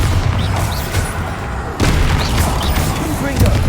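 A Bombarda spell detonates in Hogwarts Legacy, a deep booming explosion with a sharp blast near the middle, surrounded by continuous game battle noise and spell effects.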